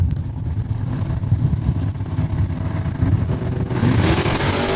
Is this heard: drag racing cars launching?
yes